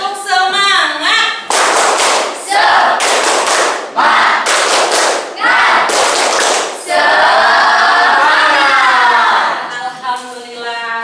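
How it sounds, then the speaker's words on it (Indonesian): An audience in a classroom-style session claps in a rhythmic spirit-clap pattern, loud sharp bursts of clapping in a set rhythm alternating with group chanting. "Sekali lagi, biar tambah semangat. Tepuk semangat."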